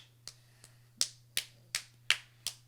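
A few soft, spaced claps in a podcast studio, about seven crisp separate slaps at a slow, irregular pace over a low steady hum, quiet and close.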